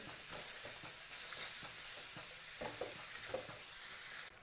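Puran dal mixture of cooked lentils with potato and besan being stirred in a pan, soft scraping strokes at an irregular rhythm over a faint steady sizzle.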